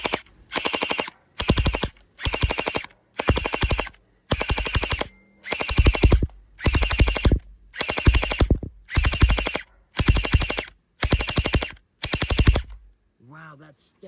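A toy pistol blaster fires in rapid bursts during FPS speed testing, about a dozen loud, evenly spaced volleys of quick shots separated by short pauses, close to the mic, with a faint voice at the end.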